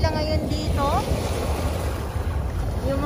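Strong waves churn along the Manila Bay shore at Dolomite Beach amid washed-up seaweed and trash, a loud continuous surf roar mixed with heavy wind buffeting the microphone and a voice speaking over it.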